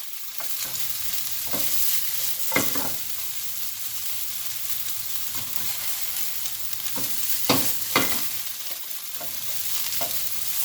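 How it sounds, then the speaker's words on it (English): Ginger and garlic fry in a small amount of oil for chicken and broccoli in white sauce, giving a soft continuous sizzle broken by a few sharp stirring scrapes and taps up close. "Few minutes of stirring like this, tossing around."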